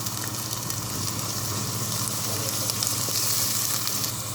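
Garlic and ginger fry in oil with a steady, even sizzle and faint crackling, close by and without any talking.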